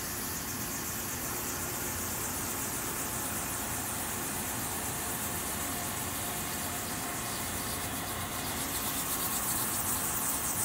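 Stone surface polished with disc-shaped polishing pucks on a powered machine, giving a steady gritty rubbing hiss over a low motor hum, continuous and close with no speech.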